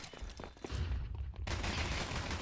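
Gunfire in Counter-Strike: after a duller stretch, a dense, loud burst of shots fills the second half, with no talk over it, though the USP pistol's exact report cannot be singled out.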